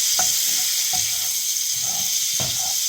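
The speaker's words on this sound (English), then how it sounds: "just a little bit of butter, probably, I'd say 1 tablespoon, and you just move that around" About a tablespoon of butter sizzles in a pan with a steady, close hiss, while a few soft scraping knocks from it being moved around punctuate the frying.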